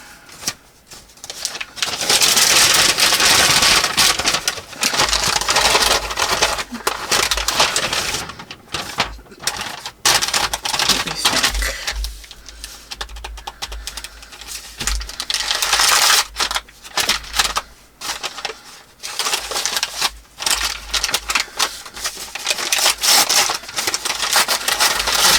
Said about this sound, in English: tear at the bottom of this bag here. Get the bulky part out.